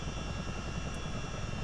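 CH-47D Chinook helicopter engines in a flight simulator make a steady, loud, droning rumble with a constant turbine hiss throughout, and no voices are heard.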